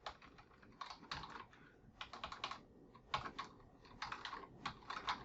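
Typing on a computer keyboard, a close, quiet run of quick key clicks in bursts with short pauses between them, no voices.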